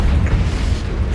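A Confringo fire spell explosion in Hogwarts Legacy, a loud, close, sustained deep boom with rumbling low-end energy that fills the whole moment.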